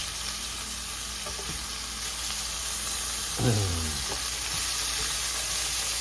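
Seared beef sizzles steadily as it is lifted out of a hot pan, with a brief louder scrape and clatter partway through against the continuous frying hiss.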